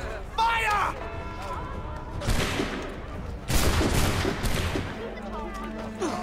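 Musket volley fired at innocent civilians in the video game Assassin's Creed 3, bursts of crackling gunfire and crashing blasts in waves over a few seconds, with voices and chaotic battle noise around them.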